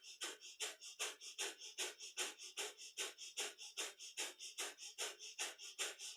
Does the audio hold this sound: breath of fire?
yes